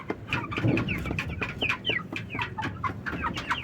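Aseel cross native crossbreed chickens clucking in a dense, continuous chorus of overlapping calls, close by and fairly loud, with no talking.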